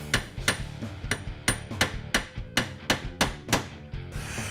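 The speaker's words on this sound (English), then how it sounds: "The final step is simply reinstalling the gear and making sure that you install the roll pin properly." A hammer drives a roll pin into a distributor gear, giving about a dozen sharp metallic blows at a steady rhythm, close and loud with no talk.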